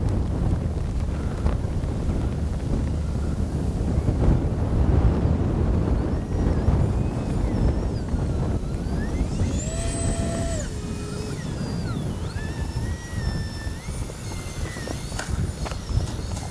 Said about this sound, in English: Whoa, that wind.